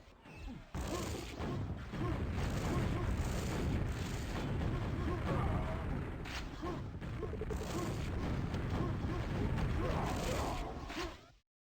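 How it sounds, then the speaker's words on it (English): Rocket explosions in QuakeWorld during a 2on2 match, a dense run of booming blasts and firing thuds, loud and near, coming in rapid irregular succession over continuous game noise before cutting off abruptly. "Rockets everywhere"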